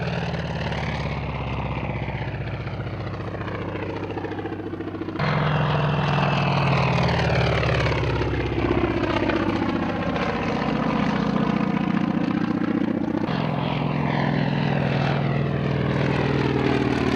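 Propeller aircraft engine droning steadily at an air race in Victoria, a loud continuous buzz that swells and shifts in pitch as the plane passes and turns, with no voices.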